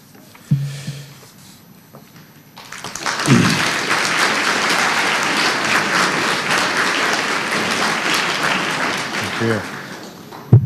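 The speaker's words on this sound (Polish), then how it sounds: "Po tej zapowiedzi poproszę o brawa." Audience applause greets the opening of the 16th Science Festival in 2012. A short spoken phrase comes first, then a full, even wash of clapping from a large crowd swells up and holds steadily for about eight seconds.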